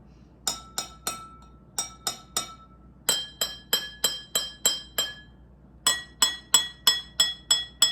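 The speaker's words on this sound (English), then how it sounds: "each glass is going to make a different sound" Drinking glasses holding different amounts of water are tapped in quick bright clinks, single strikes and runs of several, each ringing a clear pitched tone, close and with no voices.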